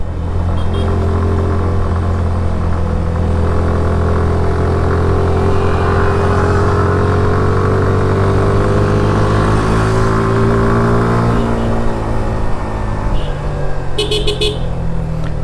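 A motorcycle engine drones loudly and steadily in low gear, its pitch rising and falling as it labours up a steep road toward Keokradong, close by and without talk.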